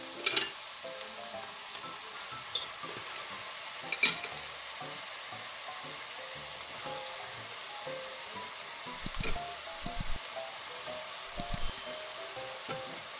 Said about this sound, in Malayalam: ഇനി അതിലേക്ക് നമ്മളുടെ വട ഓരോന്നായിട്ട് ഇട്ട് കൊടുക്കാം